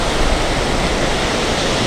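Turbulent ocean surf at Muriwai, a west-coast New Zealand beach, roars as a loud, continuous wash of broadband noise without breaks, with no voices.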